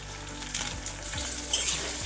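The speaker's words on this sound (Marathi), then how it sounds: "आता कढीपत्ता आणि हिरवी मिरची परतली की आपल्याला लगेच इथं बटाटा टाकून घ्यायचा आहे आणि हिरवा वाटाणा" Potato and green peas frying in hot oil with curry leaves and green chillies for poha, giving a steady close sizzle with occasional stirring scrapes of a spoon against the pan.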